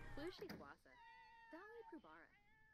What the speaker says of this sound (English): What's all going on with all the cats?